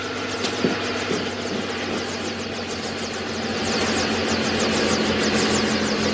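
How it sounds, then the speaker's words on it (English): A helicopter's rotor thumps loudly and steadily over a droning engine, growing slightly louder toward the end as it comes close. "That helicopter sounds like it's landing"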